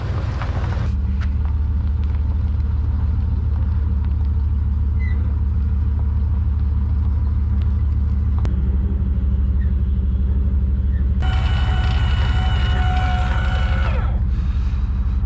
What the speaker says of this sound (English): Now that's going to come and back up the truck to the trailer.